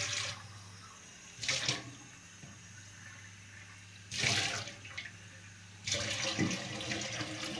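Hot water is poured and mixed with cooler water in a container, three separate splashing bursts, close and moderately loud against a quiet room.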